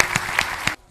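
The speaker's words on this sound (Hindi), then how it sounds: "एक बार ताली इस छोटी सी बच्ची के लिए" A crowd applauds for a little girl at a religious gathering, a short burst of dense clapping that cuts off abruptly after under a second.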